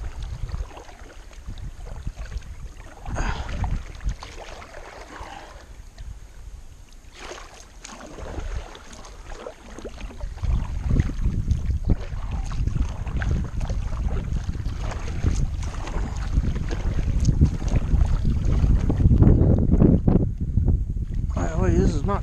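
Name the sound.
fast-flowing river water around kayak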